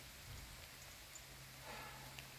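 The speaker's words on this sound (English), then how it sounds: "a heavy downpour like this, playing in this, you just can't do it, man." Heavy rain pours down on a golf course, a dense steady hiss of falling water with faint drops spattering nearby, no voices.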